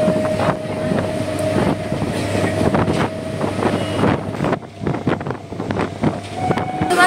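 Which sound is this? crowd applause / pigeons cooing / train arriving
train arriving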